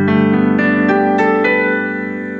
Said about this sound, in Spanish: entonces el piano suena así.